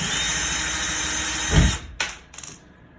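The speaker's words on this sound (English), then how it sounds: "I recommend using a drill because it's so much faster than doing it by hand" A power drill removes faceplate screws, whining steadily up close, then stops and gives two short spins with small clicks as it winds down.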